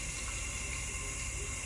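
Steady broadband rush of tap water running, continuous and fairly loud across the whole moment with no pauses or voices.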